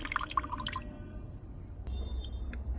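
Black liquid drips from composted vegetable and fruit peels in a series of small, close, irregular wet drips and squishes, soft and isolated, with a faint low background hum.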